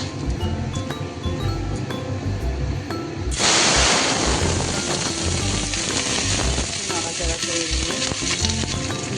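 Whole garam masala and bay leaves drop into hot oil and ghee for Bengali basanti pulao, setting off a sudden loud, steady sizzle and crackle that carries on to the end with no talking.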